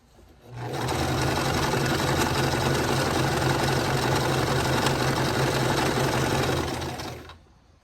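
A sewing machine runs steadily while stitching calico quilt flower pieces for a bird quilt, a loud continuous motor whir with rapid needle rhythm lasting about seven seconds and no talk.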